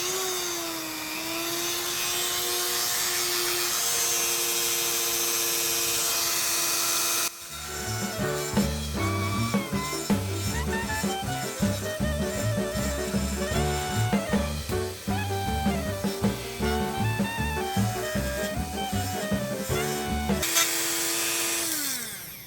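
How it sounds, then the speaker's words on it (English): A Dremel rotary tool cuts into a camera case with a steady, close, high-pitched whine. A long stretch of busier, varied tonal sound interrupts it before the plain whine returns at the end. No one speaks. "Beagle was singing along with the Dremel for a minute there"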